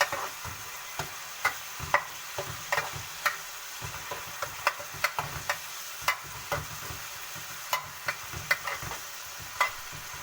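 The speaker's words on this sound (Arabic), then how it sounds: "بصي اهو صدمه حلوه كده على الزيت، وايه تقلبتين بس تغير لونها" Alexandrian-style street-cart liver frying in hot oil, a steady sizzle broken by frequent sharp clicks and scrapes of stirring, close and moderately loud with no talking.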